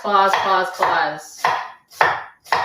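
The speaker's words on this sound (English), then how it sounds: "I'm going to cut it this way" Knife slicing through food on a cutting board in a home kitchen: about six firm strokes, close and loud, the first ones bright and ringing, with no voices.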